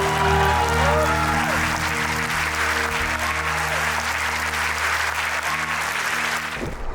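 A large live audience at a Nagpur festival event claps loudly and continuously in dense, sustained applause, a low hum running underneath, before it cuts off abruptly at the end.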